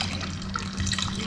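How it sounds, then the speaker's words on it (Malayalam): Coconut milk poured from a cup into a pot of boiling rice porridge (nombu kanji), a soft steady liquid pour heard close and alone. "ലാസ്റ്റ് ഞാനിതിലേക്ക് തേങ്ങാപ്പാൽ ഒഴിക്കുകയാണ്"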